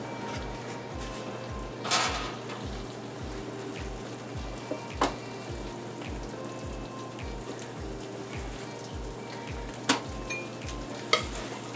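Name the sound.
pouring hot peanut brittle into the buttered pan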